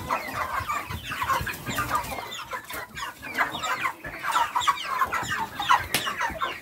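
Semi free-range broiler chickens, a batch over 2 kilos near slaughter weight, cluck and call steadily inside a coop, a dense overlapping flock chatter with occasional louder squawks and a faint engine hum beneath.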